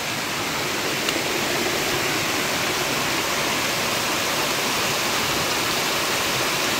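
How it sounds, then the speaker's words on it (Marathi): A mountain stream near Mandangad fort rushes without pause, a dense, even, close-up wash of flowing water with no voices. "आणि हा इकडे मस्तपैकी झरा आहे."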